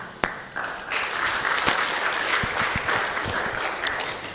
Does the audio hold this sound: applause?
yes